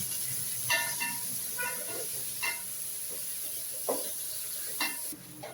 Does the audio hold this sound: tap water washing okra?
no